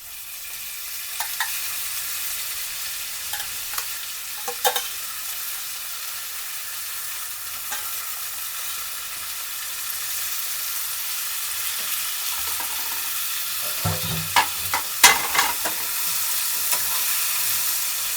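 Cleaned chicken pieces with spices fry in a pan for a village-style dry roast, a steady sizzle and hiss running throughout while a utensil stirs and scrapes with scattered clicks, busiest near the end.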